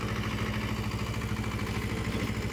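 A Sonalika Bagban DI-30, a 30 HP farm tractor, idles with a steady, low, even diesel throb that carries on without a break, close by and alone, with no voices over it.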